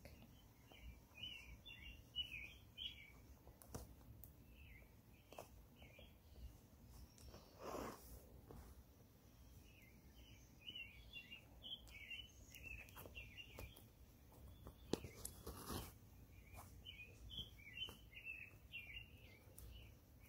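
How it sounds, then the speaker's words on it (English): Birds sing outdoors in faint, repeated chirping phrases over a low background rumble, with occasional soft handling knocks nearby. "birds are singing a very beautiful song today."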